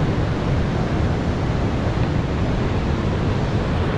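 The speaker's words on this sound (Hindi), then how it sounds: "इतना खूबसूरत वाटरफॉल है, देखिए।" Rushing water at Purwa waterfall in Rewa, Madhya Pradesh, a steady dense roar that fills the whole scene without pause and with no voices over it.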